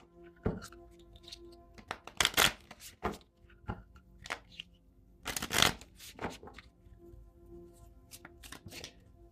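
Oracle cards being shuffled by hand, a series of quick riffling bursts and soft slaps, two louder flurries standing out among lighter taps, close and clear with no talk.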